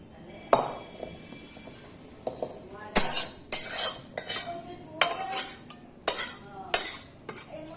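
A cooking pot of rohu fish curry (tel jhal) is lifted off the stove, with a series of sharp metallic clanks and clinks of pot and utensils, spaced irregularly and close by in a quiet kitchen.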